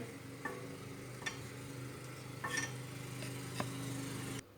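Faint scraping and occasional clinks of a spoon stirring pudding in a pot, steady and low, with a soft background hum and no talking.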